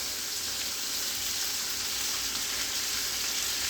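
Chopped carrots, celery and onion sizzle steadily in a hot pan, a close, continuous hiss and crackle with no talking.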